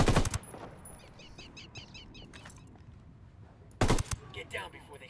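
Mark 249 machine gun in Ghost Recon Wildlands, opening and closing with short loud bursts of automatic fire, with quieter distant chatter of shots and bird calls between them.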